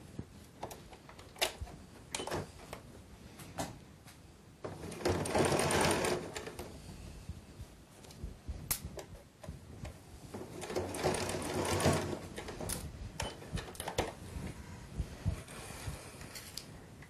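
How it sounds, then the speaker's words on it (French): A sewing machine stitches a hem on a fabric storage bag in two sustained whirring runs, with mechanical clicks and handling noises in the quiet pauses around them. "Je vais donc maintenant fixer cet ourlet à l'aide de la machine à coudre en cousant le long"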